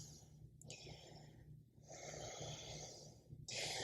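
Heavy breathing after yoga exertion, with deep, ragged, snore-like inhales and exhales close to the mic, repeating in slow cycles.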